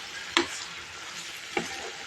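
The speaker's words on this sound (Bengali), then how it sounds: "দেখো বন্ধুরা সবজিটা আমার কষাচ্ছি এখনও আরও কিছুক্ষণ কষাতে হবে" Yardlong beans sauté in a pan with a soft, steady sizzle, broken by two distinct scrapes of a spatula, one early and one near the end.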